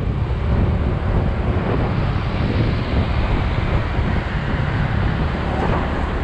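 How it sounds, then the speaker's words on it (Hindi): Strong wind buffeting a microphone while riding a scooter slowly, a constant loud broadband roar with low rumble that fills the whole clip, no voices heard. "हवा चल रही है बहुत तेज़"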